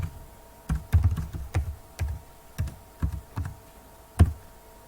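A computer keyboard clicks through a password in a quiet room, the keystrokes coming in an uneven series of distinct, moderately close taps with short pauses between them.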